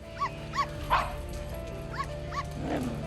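Dog barking in a dog grooming salon, with several short, sharp yips and barks in an irregular run over a steady background hum.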